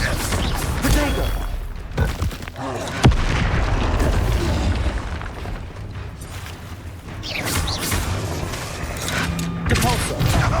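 Spell blasts such as Bombarda and Confringo go off during combat in Hogwarts Legacy. Repeated loud booms and bursts sit over a dense, continuous game soundscape, with voices mixed in.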